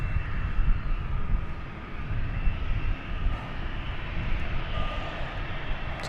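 An American Airlines Boeing 737-800 at Dallas Fort Worth airport gives a strong, close jet roar with deep low rumble, swelling and easing slightly as it goes by, no talk.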